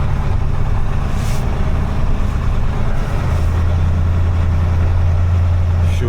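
A ZIL 4975 truck engine runs as the truck drives on rough ground, giving a loud, steady low rumble that deepens into a heavier drone partway through, with no talk over it.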